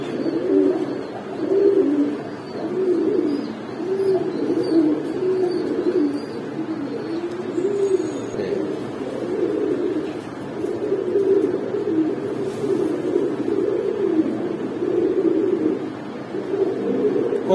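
High Flyer pigeons coo in a steady, rolling rhythm of low throaty calls, close and continuous, with faint chirps and background noise above.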